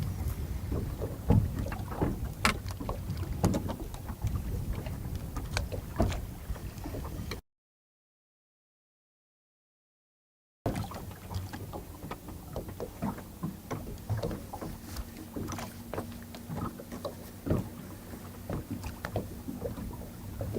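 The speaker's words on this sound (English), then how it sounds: "That boat's also like right on top of them." A motorboat runs close beside a fishing boat on open water during early-summer walleye fishing, its steady engine hum and wind buffeting the microphone, with no talk and a brief gap of silence partway through.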